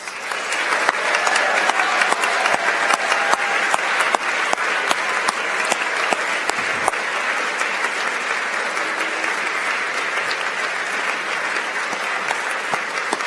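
Sustained, loud audience applause at a school awards ceremony as team members stand, dense clapping continuing steadily throughout.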